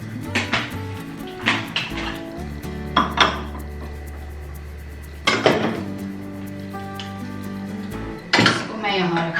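Bowls and serving spoons from a dinner set are handled and set down, giving scattered clinks and knocks of tableware, while someone talks throughout.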